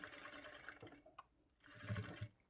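Sewing machine straight-stitching the side joints of a blouse, two short bursts of fast mechanical whirring separated by a brief pause, quiet and close, with no voices.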